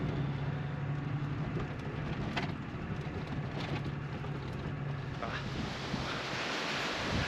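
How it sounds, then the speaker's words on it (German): Strong wind in the Georgian mountains near the Russian border buffets the microphone in a continuous low roar, gusting unevenly with no voices present. "Windig hier."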